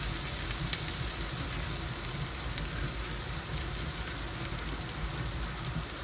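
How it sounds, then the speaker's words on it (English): Garlic sautés lightly over very low heat in a buttery sauce, giving a soft, steady sizzle and crackle like light rain that holds evenly throughout, with no voices. "And I went ahead and add my garlic there. And I'm lightly sauteing them."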